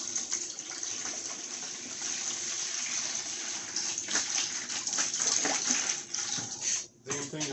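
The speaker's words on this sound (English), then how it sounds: "So let's put some water in here." Water poured into the heater core of a 2012 Chrysler 200 with a 3.6 engine during a flush, a continuous splashing gush with gurgling surges and a brief dropout near the end.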